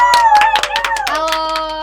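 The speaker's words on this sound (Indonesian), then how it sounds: "Tepuk tangan dulu dong." A short burst of hand clapping from a few people at a high school student council gathering, sharp claps ringing out over a sustained tonal hum.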